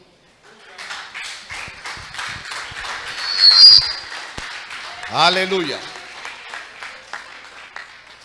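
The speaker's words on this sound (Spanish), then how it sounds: "Con un fuerte aplauso." A church congregation applauding, a spread of clapping that swells and fades over several seconds, with a whistle and a shouted voice rising above it.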